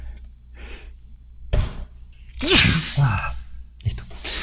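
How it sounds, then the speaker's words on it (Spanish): A single person sneezes during a physics lecture on rigid-body dynamics. A few breathy intakes build up to one sharp, loud burst, followed by softer breaths and a thump. "Quiero estornudar."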